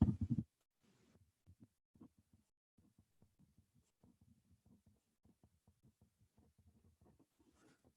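A pen or marker writes out a math equation in a quiet room, making soft, close scratching strokes in short, uneven taps and scrawls.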